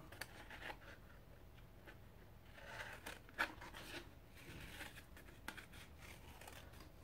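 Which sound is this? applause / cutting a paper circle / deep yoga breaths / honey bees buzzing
cutting a paper circle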